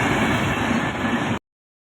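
A train rolls past at a railway level crossing, a steady loud rumble with no talk that cuts off abruptly after a moment.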